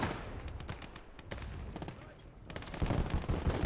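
Bursts of rapid gunfire rattle through a World War II battle in the game Gates of Hell, with clustered shots and a louder volley toward the end over a rumbling background.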